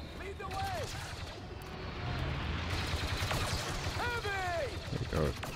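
Blaster gunfire in Star Wars Battlefront 2, bursts of shots and whining laser sweeps with rumbling battle noise behind, loud and continuous, with people talking over it.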